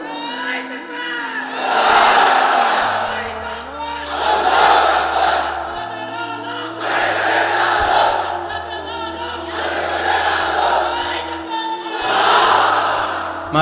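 A large crowd at an Islamic sermon gathering shouts the takbir "Allahu Akbar" in loud, unified call-and-response bursts, about five swelling roars in steady rhythm, each rising and fading over a sustained low hum.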